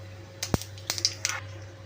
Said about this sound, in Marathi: मोहरी छान तडतडतीये